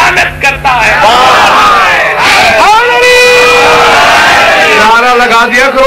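A crowd at a religious majlis shouts a slogan in unison, with loud, ragged collective cries and whoops that rise and fall and fill the whole stretch.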